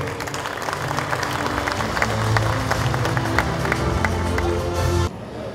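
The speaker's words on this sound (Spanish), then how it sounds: "Fuerte el aplauso de los presentes." An audience at the official inauguration of an agricultural show run by a cooperative applauds a speaker, sustained crowd clapping with distinct sharp claps that carries on steadily for several seconds before cutting off abruptly.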